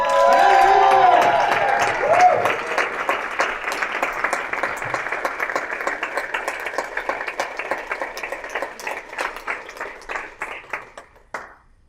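An audience at a referral business summit applauds to welcome a speaker. A brief tonal sound opens it, then a full burst of clapping gradually thins into scattered individual claps before stopping abruptly.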